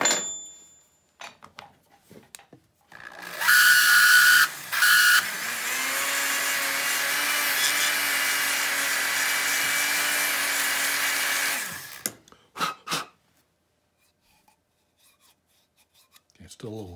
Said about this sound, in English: I'm gonna use a abrasive rubber tip to do some sanding inside, smooth it up a little bit.